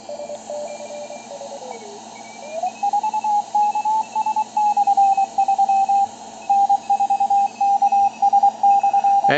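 A BC348 radio receiver plays through a narrow 200 Hz crystal filter, giving a clear keyed tone that starts with a drifting pitch and then settles into a steady rhythmic series of beeps over low background hiss.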